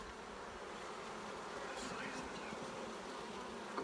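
A dense, steady hum of many honey bees buzzing close by around a hive, continuous and droning without pause.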